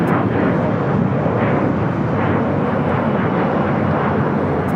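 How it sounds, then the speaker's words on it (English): An Alaska Horizon Embraer E175 jet takes off from LAX, giving a loud, steady, broadband engine roar that holds without a break from start to finish, with no voices. "2051 taking off to Spokane on the E-175"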